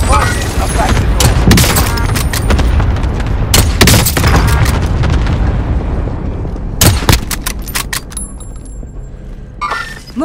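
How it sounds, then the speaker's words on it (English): An allied precision airstrike pounds the ground in Call of Duty Modern Warfare, a loud run of sharp explosive cracks and booms in clusters, with a gap of rumbling before another burst of blasts near the end. "Allied precision airstrike incoming"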